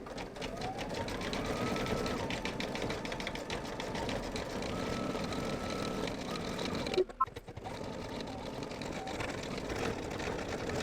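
An embroidery machine stitches beige fill for the face and hands after lettering done in the round, giving a steady mechanical whir with rapid needle pulses throughout and a brief clunk near the end, with no talking.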